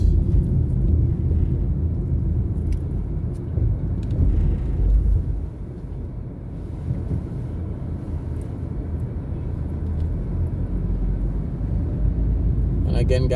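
A car's low engine and road rumble is heard from inside as it drives through the streets of Kingston, Jamaica toward Cross Roads. The steady droning hum continues without a break, with a faint click near the end.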